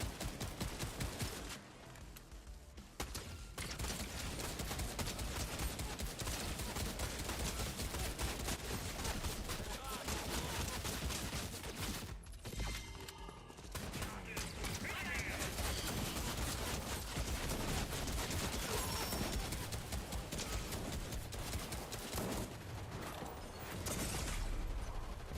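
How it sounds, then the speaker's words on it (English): Dense, continuous rapid-fire gunshots in Fortnite rattle on, loud and sustained, with only brief lulls between bursts. "There's a lot of gunfire."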